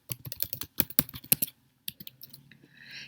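Typing on a computer keyboard, rapid clusters of clicking keystrokes close up, then a pause and a few scattered taps with faint room noise at the end, no speech.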